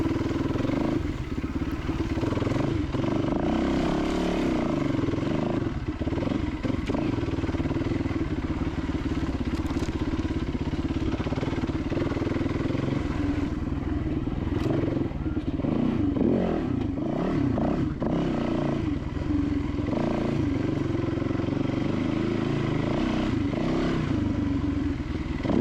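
A dirt motorcycle rides over a chunky rock trail during a hare and hound race, its engine droning loud and steady throughout, with revs surging and falling as the bike bumps, scrapes and clatters over rocks.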